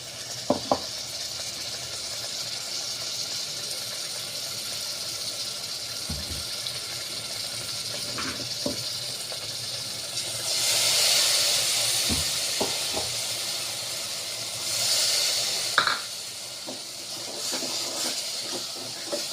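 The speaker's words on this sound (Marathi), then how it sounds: "याला आणखी दोन मिनटं आपल्याला छान मसाले शिजू द्यायचे आहे" Tomato-paste masala with spices cooking over steam for an aubergine (brinjal) dish, giving a steady soft hiss and sizzle throughout, swelling louder twice, with a few faint clicks and knocks from utensils and no talk.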